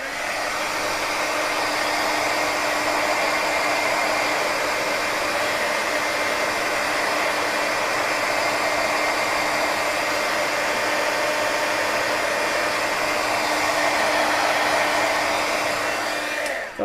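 A heat tool blows steadily to dry ink on a stamped Halloween tag, giving a loud, unbroken whooshing hum with a fixed motor whine that runs the whole time without a break, and no speech.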